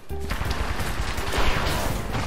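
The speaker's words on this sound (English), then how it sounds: "he's shooting. He's shooting. I'm shooting." Gunfire in Apex Legends: a loud, rapid burst of automatic shots that fires almost without a break, close and dense, with booming low impacts.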